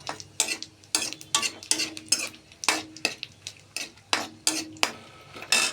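Panch phoron and two dried red chillies frying in oil, stirred briskly: sharp, close scrapes and clinks of a spoon against the pan come in a quick, uneven rhythm over a faint sizzle.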